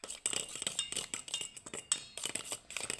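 Indigo hair dye paste being mixed in a bowl: quick, irregular clinks and scrapes of a utensil against the bowl, close and fairly quiet, in uneven bursts.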